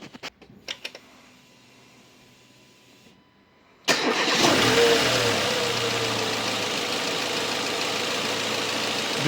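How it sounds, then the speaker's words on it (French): Mercedes A-Class W169 engine fired up after a chain tensioner replacement: a few clicks and quiet, then a sudden crank and catch settling into a steady, close idle. "C'est parti, démarrage."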